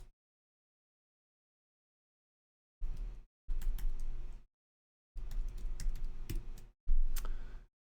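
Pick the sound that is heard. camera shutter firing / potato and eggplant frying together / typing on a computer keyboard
typing on a computer keyboard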